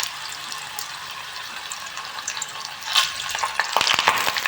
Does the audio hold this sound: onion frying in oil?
yes